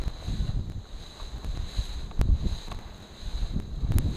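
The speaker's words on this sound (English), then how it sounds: "Wind isn't quite as strong as it was on Saturday when I did the other test, but I can still hear it sort of making a noise around my ears" Outdoor wind gusts buffet a microphone fitted with a wind baffle. The low rumble rises and falls continuously, with occasional soft thumps.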